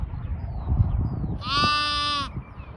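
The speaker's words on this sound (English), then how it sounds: "So little Dexter's still calling." Lamb left behind after lambing, calling out for its mother with one drawn-out, clear bleat over low outdoor rumble on a farm.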